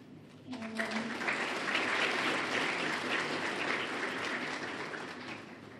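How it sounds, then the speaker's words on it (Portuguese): An audience claps for a professor at a book launch ceremony in Maputo, the applause swelling quickly after a brief voice and holding dense and loud before easing slightly. "queria uma grande salva de palmas ao professor Bacelar"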